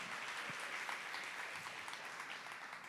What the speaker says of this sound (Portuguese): Aplaude, aplaude.